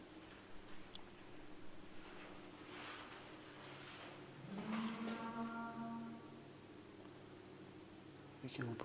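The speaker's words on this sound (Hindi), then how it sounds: "ऊपर कोई भैंस के बोलने की आवाज़ है" A buffalo lows somewhere overhead at night, a drawn-out moaning call rising partway through over a steady chorus of crickets, with a faint thud near the end.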